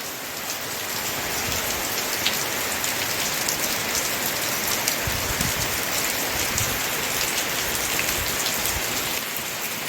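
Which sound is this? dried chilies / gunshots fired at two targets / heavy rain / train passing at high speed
heavy rain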